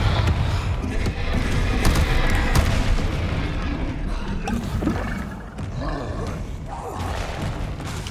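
Confringo fire spell blasts in Hogwarts Legacy, dense booming explosions and rumbling combat noise that stay loud throughout, with game sounds layered over one another.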